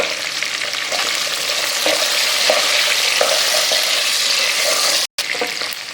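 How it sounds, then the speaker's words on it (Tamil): Small onions and garlic fry in a pan for a Tamil vathal kuzhambu, giving a loud, steady sizzle with the scrape of stirring at regular intervals and a brief cut of silence near the end. "வெங்காயம் நல்லா வதங்கி வருது."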